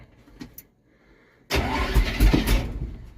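A 1968 Dodge W200 Power Wagon, on fresh batteries with a little gas poured down it, cranks after a few faint clicks and a quiet pause, then roars loudly into a rough, rumbling start up close.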